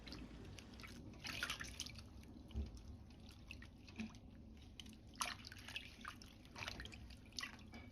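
Baby napa cabbage is rinsed under running water at a kitchen sink: a quiet, continuous trickle broken by splashes and drips as the leaves are moved about.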